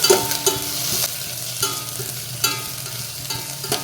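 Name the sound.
stirring capsicum frying in a pan for tomato spaghetti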